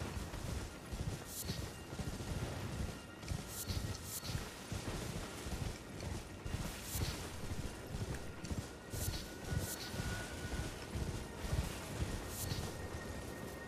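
Horse hooves clip-clop in a steady, rapid rhythm as a mount gallops across open ground in Elden Ring, with a continuous airy wash of wind behind the hoofbeats and no voices.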